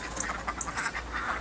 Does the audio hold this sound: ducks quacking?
yes